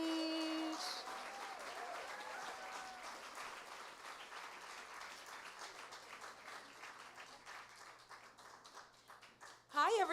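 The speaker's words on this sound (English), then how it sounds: "let's all give a round of applause as Shaw comes to the stage" A live storytelling event audience applauds as the next storyteller comes to the stage, a long, even wash of clapping that fades slowly. Brief tones sound at the start, and a voice cuts in loudly at the end.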